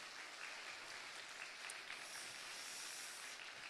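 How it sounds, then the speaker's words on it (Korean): Continuous applause from a congregation at a church young adults' dedication worship service, faint and somewhat distant, a dense even patter of clapping throughout. "우리 귀한 청년들을 위해서 다시 한 번만 격려의 박수 부탁드립니다"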